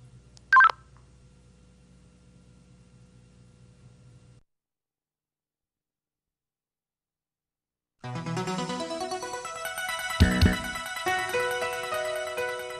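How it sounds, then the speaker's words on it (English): A single short keypad beep sounds on a MOTOTRBO digital two-way radio over a low hum, followed by silence and then a burst of rising, warbling electronic tones. "Using the keypad, enter the ID of the person you want to contact."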